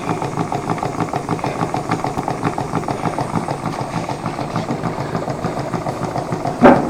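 A Stewart steam plant engine runs steadily, a loud, close mechanical chuffing with a fast, regular rhythmic beat and light rattling, ending with a brief sharper clank.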